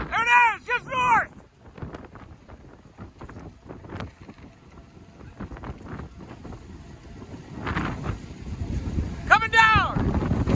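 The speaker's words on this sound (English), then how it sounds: "It's getting windy." Strong, gusty wind during a tornado outbreak in East Texas batters the microphone in rough roaring bursts that build toward the end, with short shouted exclamations at the start and finish.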